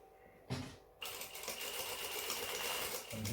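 Sewing machine stitching a zip onto pants, a quiet start followed by a steady, continuous motor whir that runs nearly unbroken to the end.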